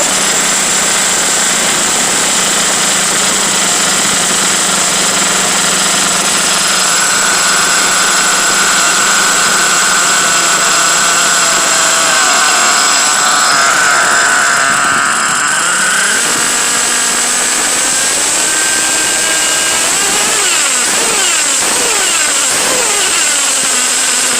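A small nitro RC car engine idles high and buzzy, close and loud, its pitch wavering and shifting partway through, with no voices.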